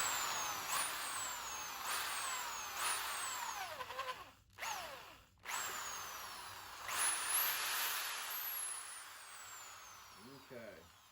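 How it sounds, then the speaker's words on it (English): Power drill boring dried epoxy out of a vent hole, running in repeated whining bursts with pitch sweeps and two brief pauses, loud and close, with a voice faintly underneath. "So we're just going to drill this out"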